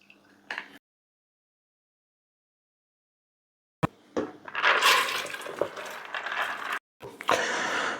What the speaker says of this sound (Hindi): इसमें हम शामिल करते हैं जो 1 किलो हमने दाल भिगो के रखी थी वो।